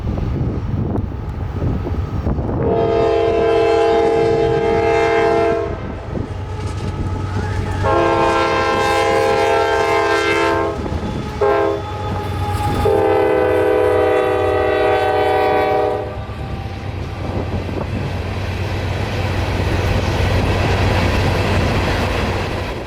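A CSX freight train passes the 78th Street Bridge over the Tampa Bypass Canal in Florida, sounding three loud horn blasts over a steady low rumble of railcars that continues to the end.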